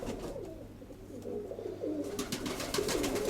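A hen pigeon coos softly in a loft, a low warbling call building near the end, faint and close over quiet background noise.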